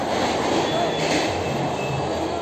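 A train at Malad railway station in Mumbai rumbles past with a steady roar of wheels on rails and a faint metallic squeal, loud and continuous, with station ambience and no clear speech.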